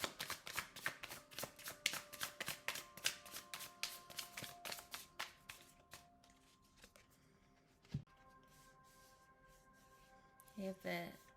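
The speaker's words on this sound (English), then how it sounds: "I'm gonna pull one more card for you." Tarot cards are shuffled by hand in a quick run of crisp riffling slaps, then the shuffling slows and stops, followed by a few soft handling taps and rustles near the end.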